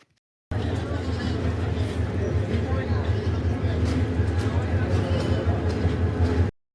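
The Egarosindhur Express, a Dhaka-bound train from Kishoreganj, rolls into Kuliarchar station with a steady low rumble and rattle of carriages, continuous and fairly near, with crowd murmur mixed in.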